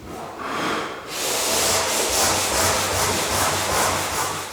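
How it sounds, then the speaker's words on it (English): A whole wooden barn door is sanded with a power sander, giving a loud, continuous rough grinding hiss with rhythmic swells as it sweeps across the surface. "And then give the whole door a very good sand."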